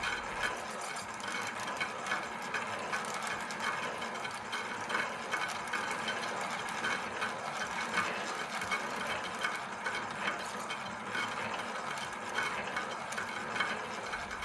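A winding machine spins a transformer coil onto a bobbin for an ECL86 single-ended amplifier. It gives a steady, even mechanical whir that runs without a break and with no voices.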